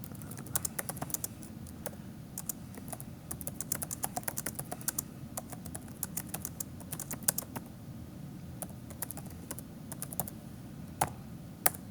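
Rapid computer keyboard typing, with dense bursts of crisp key clicks throughout and a few sharper keystrokes, close and clear with no talk.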